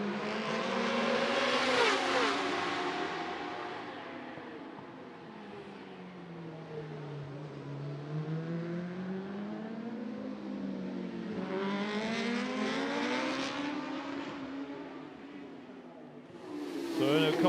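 Racing superbike at Macau Grand Prix practice, engine screaming as it passes close, pitch sweeping up and down through gear changes, with a second bike roaring through later.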